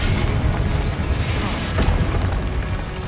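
Confringo blasting spell explosions in the video game Hogwarts Legacy, a dense, loud rumbling barrage of booms and crashes with a sharp burst near the middle, continuous and close.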